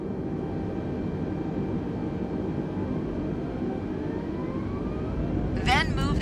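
Airliner jet engines in Microsoft Flight Simulator hum in a steady, loud drone with rising whine tones as thrust builds, while a voice talks through the takeoff over it.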